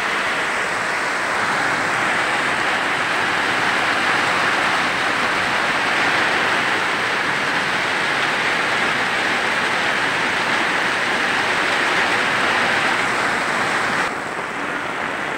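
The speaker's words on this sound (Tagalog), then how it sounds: "Dahil po napakalakas po ng ulan." Heavy rain pours steadily in a flooding barangay in the Bicol region, a dense, even hiss that holds at constant loudness throughout with no voices, easing slightly near the very end.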